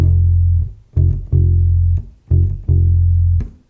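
A bass guitar plays a bossa nova rhythm on F, with deep, loud notes cut short and choked on beats 2 and 4, leaving a bouncy pattern of sustained notes broken by brief gaps.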